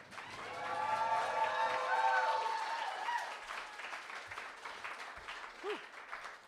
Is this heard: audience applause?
yes